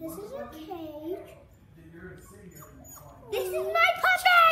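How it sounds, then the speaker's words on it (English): A puppy whimpers and yips in short, high whines close by, while someone talks excitedly over it toward the end. "This is my puppy!"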